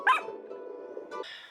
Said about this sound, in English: little dog Fido.